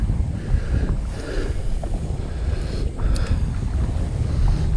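Wind blowing across open water during boat fishing, a loud steady rush and buffeting of wind noise on the microphone with faint water sounds beneath, no voices.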